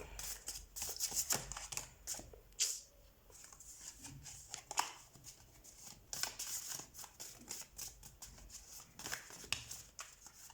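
Tarot cards are picked up and shuffled by hand: soft, quiet rustling and quick papery flicks in irregular bursts, close by and without speech.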